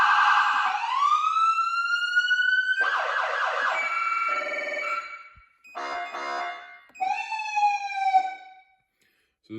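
Several distinct fire truck siren tones in sequence: a rising wail, then rapid yelping and warbling patterns, loud and close with brief pauses between.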